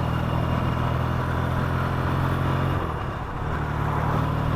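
A Yamaha XS650 US custom motorcycle engine drones steadily while riding, a loud low throbbing hum with wind rush and a brief dip in revs partway through.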